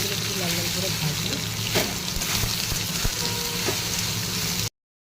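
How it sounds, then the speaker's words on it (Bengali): Soybean chunks fry in hot salted oil, giving a continuous, close, crackling sizzle like light rain that cuts off abruptly near the end, with a voice faintly present. "সোয়াবিনগুলো একটু লাল লাল করে ভাজবো।"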